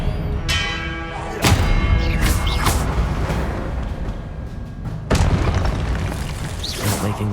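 Spell casts in Hogwarts Legacy land as deep booming impacts with bright ringing, bell-like tails, two strong hits about four seconds apart over a steady low rumble of game ambience.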